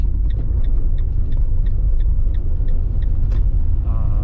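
A car's brakes make a regular, quick ticking or squeaking once the pedal is let go, repeating about three times a second over a loud, steady rumble of the vehicle moving along hilly roads.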